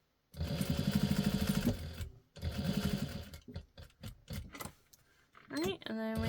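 A sewing machine stitches a quilted fabric bowl cozy in two rapid, rhythmic runs separated by a brief pause, followed by scattered clicks and handling noises, with a voice speaking near the end.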